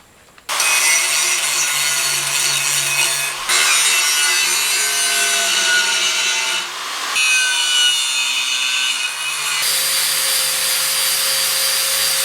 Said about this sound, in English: about to hit the edges on this plate with an angle grinder with a stone on it